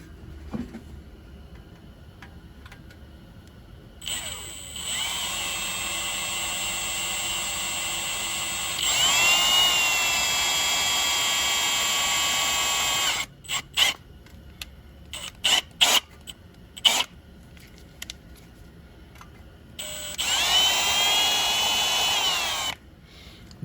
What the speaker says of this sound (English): So I'm going to go ahead and drill this out